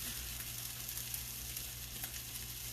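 Food frying in a pan, left to simmer, gives a steady, even sizzle with faint crackles throughout and no voices.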